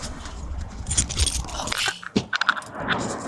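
A bunch of keys jangles and scrapes in irregular bursts while someone searches hurriedly in a car, with rustling and knocks in between and no talk.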